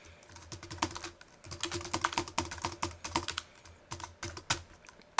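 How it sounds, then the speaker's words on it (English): Close computer keyboard typing, rapid irregular key clicks in quick runs with short pauses, steady and moderately loud, no voices. "And you can type a little message."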